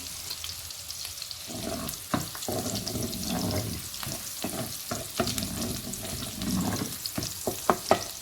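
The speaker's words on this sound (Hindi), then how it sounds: "इसमें मैं पहले लहसुन डाल दूंगी और इसको हमने थोड़ा सा हल्का सा ब्राउन करना है, फ्राई करना है।" Garlic frying in oil until light brown for chicken karahi, a steady crackling sizzle with intermittent stirring scrapes and taps against the pan, close and continuous throughout.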